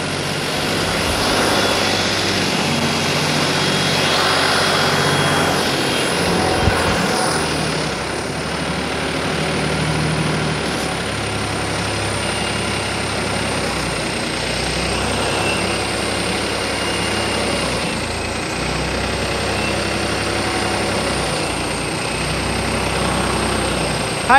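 A turbo-modified Farmtrac 45 diesel tractor engine with an adjusted diesel pump runs loud and steady at full power, a constant heavy drone with no pauses.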